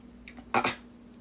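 A fresh cucumber bitten into, giving a short crisp crunch up close followed by a brief moist chewing crackle, with quiet room background.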